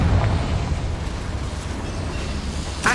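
A Confringo fire spell in the video game Hogwarts Legacy bursts as a heavy, low rumbling blast that rolls on steadily, loud and close, ending with a brief sharp pop.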